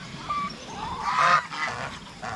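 Farmyard geese honk in a short burst of several calls, loud and close, with turkeys and ducks kept nearby.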